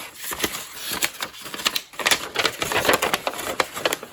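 Crisp antique paper letters from 1917 being handled up close, a steady run of sharp rustles, crinkles and soft clicks with brief pauses between handling movements.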